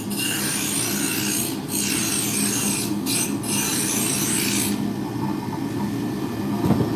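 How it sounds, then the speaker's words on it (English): A roughing gouge cuts a wood spindle on a lathe, bringing it down to diameter with a continuous loud rasping, scraping hiss, briefly broken by short gaps, then settling into a quieter motor hum with the cut stopped. "going to stick with the roughing gouge, get the diameter down."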